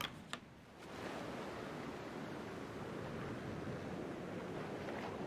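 Steady ocean waves and wind wash continuously while a boat is steered through calm polar waters in the game The Pale Beyond, a broad even roar after a couple of brief knocks at the start.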